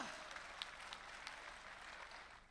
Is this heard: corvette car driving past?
no